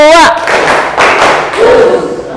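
Pupils in a classroom clap in unison on their teacher's signal, a quick spoken cue followed by loud, room-filling clap bursts with a brief voice sounding midway.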